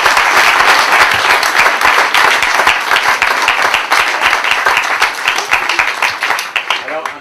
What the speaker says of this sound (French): je vous propose qu'on applaudisse